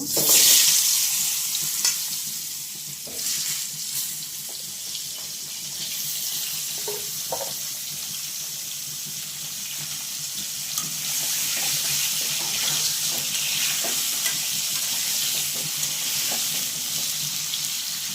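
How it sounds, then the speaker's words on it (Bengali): Potatoes and eggplant frying in a pan for a koi fish recipe, a steady close sizzle with occasional stirring clinks and scrapes running throughout, no voices. "এখন আলু আর বেগুনগুলো দিয়ে দেব"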